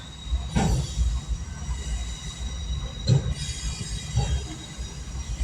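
Train rolling past on rails, a continuous rumbling clatter with recurring wheel clanks and metallic squeal, heard at moderate distance with no talk.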